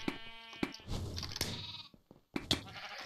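Sheep in the video game Sheep Quest bleating in a few short, wavering cries, close and fairly clear, with brief gaps between calls.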